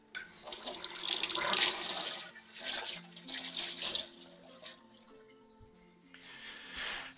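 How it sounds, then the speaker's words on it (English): Water from a kitchen tap runs into a sink while hands are washed, splashing in uneven surges that ease off and then pick up again near the end. "need to wash my hands"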